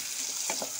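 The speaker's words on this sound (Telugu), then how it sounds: "ఇంకొంచెం వేగాలండి ఉల్లిపాయలు" Onions frying in a pan while cooking egg pulao, a steady soft sizzle with a couple of brief stirring scrapes, close and alone with no voices.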